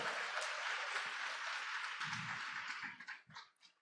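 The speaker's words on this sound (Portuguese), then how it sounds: "você pode aplaudir o Senhor." A church congregation applauds during a sermon on the Second Coming, dense clapping from many people that carries on steadily before tapering off into a few scattered claps near the end, fairly faint overall.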